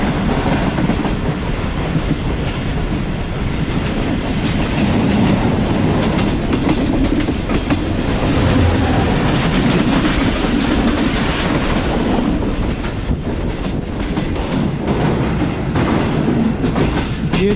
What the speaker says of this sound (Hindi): इस वक्त डाउन में ट्रेन आ रही है और मुझे ये KCR लग रही है